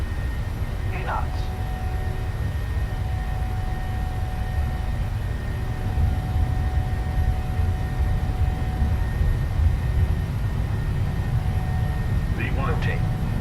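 Boeing 737 takeoff roll in Microsoft Flight Simulator, a steady loud low engine roar that holds throughout, with brief voice calls over it.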